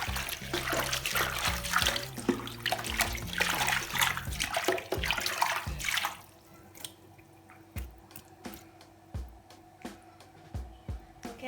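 Holy basil leaves are rinsed under running water in a kitchen, with splashing and trickling for several seconds, then quieter scattered drips and small splashes.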